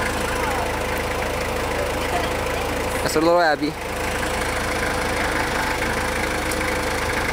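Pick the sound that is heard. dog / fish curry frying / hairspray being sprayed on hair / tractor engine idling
tractor engine idling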